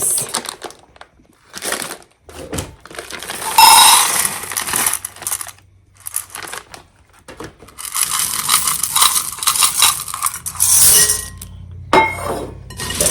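A bag of M&Ms pours into a bowl of Christmas snack mix in bursts, hard candy shells rattling and clinking together with short pauses between the pours.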